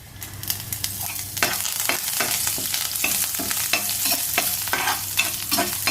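Cumin, dried red chillies and curry leaves temper in hot oil for a Bombay chutney, crackling and sizzling loudly up close as a spoon stirs in repeated scrapes, without speech.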